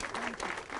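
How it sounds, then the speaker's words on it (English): Steady clapping from a crowd, a continuous dense patter of many hands at moderate volume. "Give them another round of applause."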